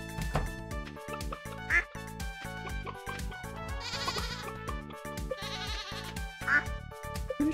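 Ducks quack in the Stardew Valley farming game, with repeated nasal calls over bright, busy game music and sound effects, while a voice talks along.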